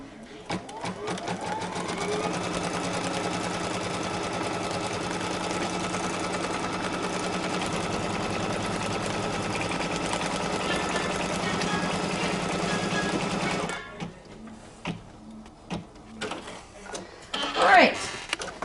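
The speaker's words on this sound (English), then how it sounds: "go ahead and stitch out the crosshairs" An embroidery machine stitches crosshairs onto adhesive stabilizer in one long, steady mechanical run up close, then stops, leaving a few clicks and handling noises.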